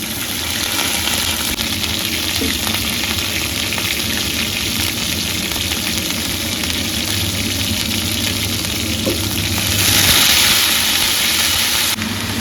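Potatoes and cauliflower fry in a pan with black cumin and green chilli, giving a steady, close sizzle over a constant low hum that swells a little toward the end.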